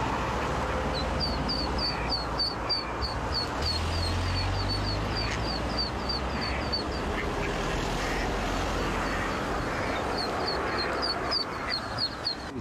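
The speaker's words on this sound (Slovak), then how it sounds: "Kačacia rodina prešla z Hrona cez 2 dvojprúdovky plné aut." A family of ducks quacks repeatedly in short bursts beside a busy road, the calls standing out over a constant low rumble of passing traffic.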